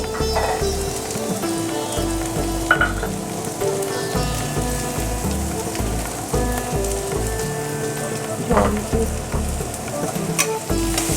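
Garlic and green chili paste frying in a pan with onions, a continuous crackling sizzle with occasional stirring scrapes, close and steady without talking.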